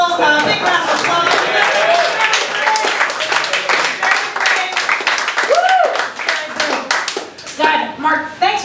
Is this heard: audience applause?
yes